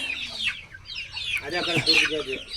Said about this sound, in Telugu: ఇది తెల్లకోడే